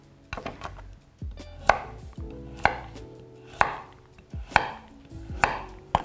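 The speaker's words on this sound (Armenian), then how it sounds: "Ահա, գազարը եւս փորձենք կլոր շերտերով կտրատել։" Knife chopping carrots into round slices on a cutting board, a series of sharp close taps in an uneven rhythm, each cut ringing briefly, with no talk.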